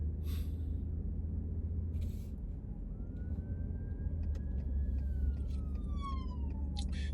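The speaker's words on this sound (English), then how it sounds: "There goes the Pahrump ambulance" A distant ambulance siren wails in a long rising and falling tone, then its pitch drops as it passes, over steady road noise from a moving car with brief bursts of hiss.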